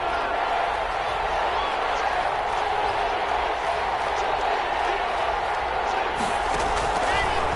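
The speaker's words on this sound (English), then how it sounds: "the crowd getting into it as we come up on a big third down" Football stadium crowd at a Broncos game, roaring as a big third down approaches: a dense, steady wall of cheering and noise that holds loud and unbroken throughout, with no clear pauses.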